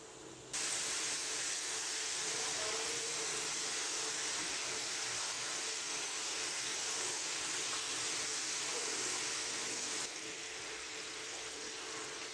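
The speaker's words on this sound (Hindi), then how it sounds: "अब हम इनको मीडियम फ्लेम पे फ्राई कर लेंगे।" French fries frying in hot oil over a medium flame give off a steady, close, even sizzle and hiss, continuous throughout and easing slightly near the end, with no voices.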